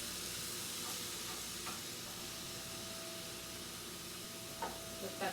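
Sausage, potato, green beans and peppers cooking in a pan, a faint steady sizzle and hiss with a few soft stirring clinks, no voices.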